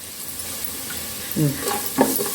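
Curry leaves hit hot oil already seasoned with asafoetida, Kashmiri red chilli and turmeric for a vada pav chutney, giving a close, steady sizzle with a couple of stirring scrapes and brief voice fragments.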